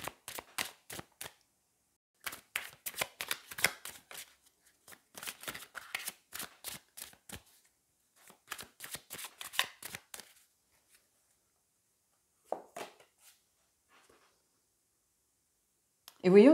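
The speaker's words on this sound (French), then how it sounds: "Allez, on continue, on va aller prendre une carte supplémentaire." Tarot cards being shuffled and drawn make quiet bursts of rapid riffling and flicking clicks in several short runs, separated by pauses, ending with a single louder card snap.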